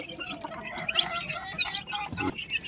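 Speckled chicks being moved into a blanket-covered coop peep and cheep continuously from close by, the high chirps overlapping, with soft rustling underneath.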